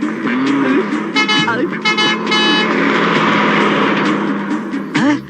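A bus horn honks in short repeated blasts over the din of road traffic, while people talk loudly nearby.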